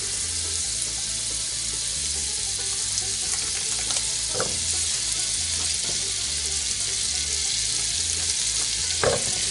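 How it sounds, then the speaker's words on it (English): A whole stick of butter cut into four pieces sizzles and fries steadily in a hot skillet, a continuous close crackle with a few brief clicks and no talk. "the skillet's starting to get pretty warm, pretty hot. Not hot enough yet, but I'm going to go ahead and add my butter."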